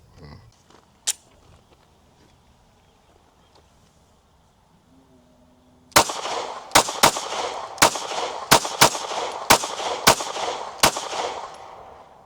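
A Ruger RXM 4.5 full-size pistol fitted with a compensator fires a rapid string of about ten loud, sharp gunshots outdoors at close range, following a few faint earlier pops and a quiet pause.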